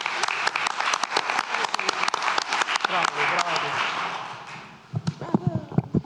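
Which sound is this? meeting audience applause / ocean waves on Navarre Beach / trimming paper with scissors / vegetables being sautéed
meeting audience applause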